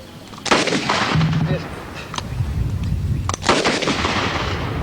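Quick-draw double shots with blanks from a Browning 1919A4 revolver aimed at balloons, two sharp loud cracks close together, then a second pair a couple of seconds later, with no talking.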